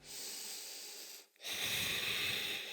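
Slow nasal breathing during a morning yoga session, one long audible inhale-like hiss, a brief pause, then a stronger, breathy exhale, close and quiet.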